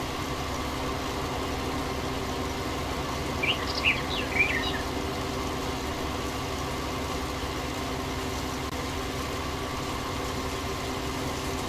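A tractor engine in Farming Simulator 19 idles with a steady, even drone throughout, and a few brief bird chirps rise above it near the middle.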